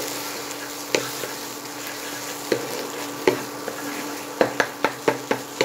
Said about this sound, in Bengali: এইবারে একটি ডিম আমি ফেটিয়ে রেখেছি, সামান্য লবণ দিয়ে ডিমটা আমি দিয়ে দেব। ডিমটা দিয়ে দিয়েছি, দিয়ে ভালোভাবে এইভাবে নাড়িয়ে দেব।